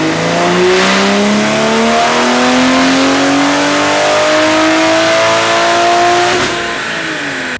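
A tuned Toyota Supra with a BMW B58 engine revving hard, loud and close, its pitch climbing steadily for about six seconds before easing off, with no voices.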